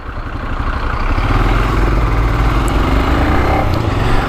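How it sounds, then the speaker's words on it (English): A Royal Enfield Himalayan Scram 411 motorcycle being ridden, its engine a steady, loud, close drone mixed with road and wind rumble that holds for the whole stretch without any talking. "I've actually been out riding the Royal Enfield Himalayan Scram 411"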